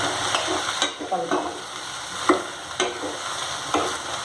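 Washed mushrooms sizzle steadily in a pan while a spoon stirs them in repeated scraping strokes, close and alone.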